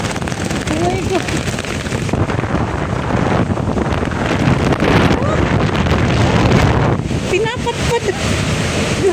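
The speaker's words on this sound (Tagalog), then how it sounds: "Ang lakas ng hangin. Kala mo may bagyo." Strong, gusty wind roars and buffets the microphone continuously, swelling and easing over several seconds, while a person talks over it.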